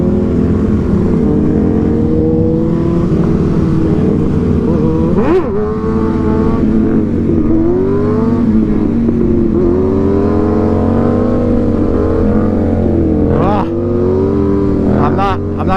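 A stunt motorcycle revs and accelerates, its engine note rising and falling through several throttle bursts at close range, with a rider talking over it throughout.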